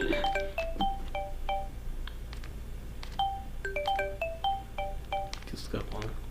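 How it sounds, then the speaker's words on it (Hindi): A phone ringtone chimes in repeated short melodic bursts of electronic tones over a steady low hum, heard indoors at moderate level alongside faint background voices. "किसका फोन?"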